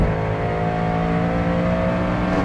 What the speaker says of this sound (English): Just gonna let the engine have a go again.